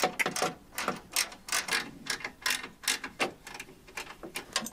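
A ratcheting closed-end wrench turns on a radiator bolt during radiator replacement on a Nissan Frontier, giving a run of quick, fairly faint clicking ratchet bursts close by, repeating in an uneven rhythm.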